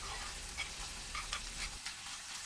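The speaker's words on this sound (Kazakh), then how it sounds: "Содан соң жаңағы шұжықтарымызды да салып қуырып аламыз." Sausages and tomato frying in a pan, a soft, steady sizzle with light crackles and occasional stirring, heard close up without any talk.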